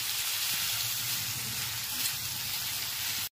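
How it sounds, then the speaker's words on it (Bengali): Marinated chicken pieces frying over a medium-high gas flame for a homemade chicken pizza, a dense, steady close sizzle with soft crackles and no voices. "চিকেনগুলোকে খুব ভালো মতো ফ্রাই করে নেব"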